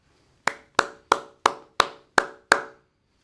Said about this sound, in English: How about a round of applause for Tim and the Fabry family?